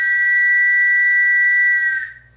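A single steady, high whistle like those of the old Santos trams and little train sounds loud and sustained for about two seconds before cutting off abruptly.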